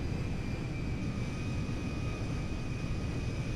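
Boeing 747LCF Dreamlifter jet engines in the GTA 5 video game hold a steady, fairly quiet roar with a thin high whine running through it, unchanging throughout.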